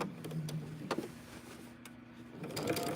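A sewing machine stitches quilt seams in short runs, with a steady whirring hum broken by brief pauses and the knock of the mechanism, close by and fairly quiet.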